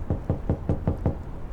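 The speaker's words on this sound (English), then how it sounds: "Drawing a breath, Lars knocked." Six evenly spaced knocks on a church door in a radio play, firm and close, with deep hollow thuds on dilapidated wood and no voices.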